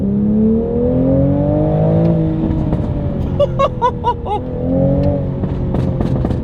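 A 2020 Toyota Supra engine on stock exhaust revs steadily under acceleration with rising and falling tones, punctuated midway by a rapid series of sharp exhaust pops and crackles, loud and close.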